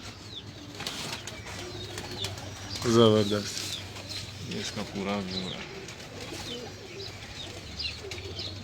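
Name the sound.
pigeons cooing and flapping on a rooftop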